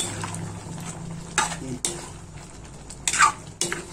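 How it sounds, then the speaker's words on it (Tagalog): Pork caldereta is stirred in a cooking pot, with a soft sizzle underneath and a few sharp clinks of a utensil striking the metal pot. "Tapos, haluin pa natin."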